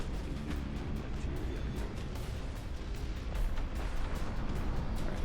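Artillery cannons booming in the strategy game Dust Front RTS, a continuous low rumble of distant shots and impacts with repeated sharp cracks throughout, no talking.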